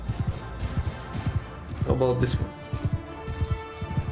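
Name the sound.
horses in video game Mount and Blade II: Bannerlord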